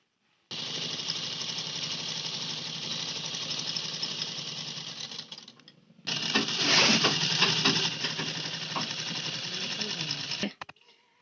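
Electric sewing machine stitching lining onto a blouse sleeve, a fast steady whirring run that pauses briefly, then restarts for a second burst with small clicks before stopping.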